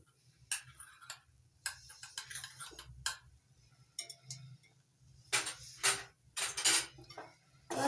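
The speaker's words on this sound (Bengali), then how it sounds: "সব কিছু ভালো করে মিশিয়ে নিচ্ছি একসঙ্গে" A spoon clinks and taps against a bowl while amla is mixed with powdered sugar: irregular bright knocks and scrapes in scattered clusters, close and fairly quiet, with pauses between strokes.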